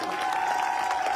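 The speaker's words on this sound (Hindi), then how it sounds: "अरे यार इसके लिए ताली बजाओ" An audience claps at a live motivational event in Lucknow, a brief dense patter of steady clapping with a little crowd noise and no pause.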